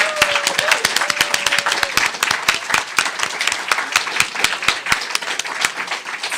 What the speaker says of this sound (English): They are standing and giving the new members the applause of welcome and love.